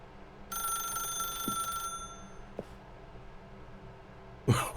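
A telephone bell in The Stanley Parable rings steadily for about a second and a half, clear and close, then stops; a short sharp clatter follows near the end.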